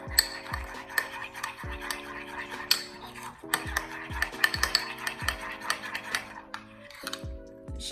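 Burger patty ingredients are mixed in a bowl, with rapid clinking and scraping of a utensil against the bowl, close up and fairly quiet, under a steady melodic background tune with no talking.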